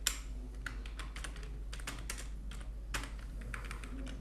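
Rapid, continuous keystrokes sound on a computer keyboard as someone writes web page code, the clicks crisp and close over a low steady hum.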